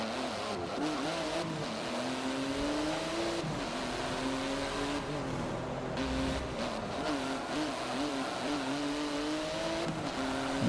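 Porsche race car in the Forza Motorsport 7 racing game, its engine droning steadily with rising and falling pitch as it accelerates and shifts, with faint tire noise throughout.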